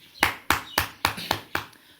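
Applause for Sunita Pal at the close of an online Zoom session: six sharp, evenly spaced hand claps, close and fairly loud, with no talking over them.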